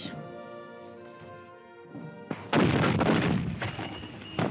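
Gunfire in archival footage of the 1944 Paris uprising breaks in as a burst of sharp, crackling reports and booms after a quieter tonal passage, loud and continuing to the end.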